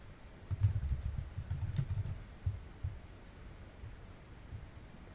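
Computer keyboard keys being typed while entering a password for a Tenda A33 Wi-Fi repeater setup: a short burst of soft, close clicks and taps in the first two seconds, then a few scattered keystrokes trailing off.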